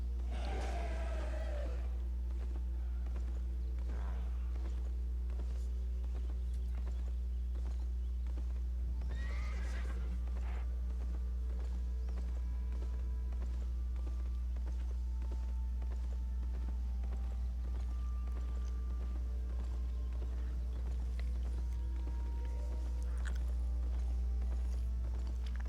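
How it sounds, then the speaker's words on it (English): In a video game, a riding horse neighs loudly near the start, then its hooves clip-clop steadily over a constant low hum, with a second whinny partway through. "I'm on a riding horse, I can't even tell"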